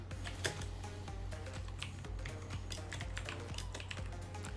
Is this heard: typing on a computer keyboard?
yes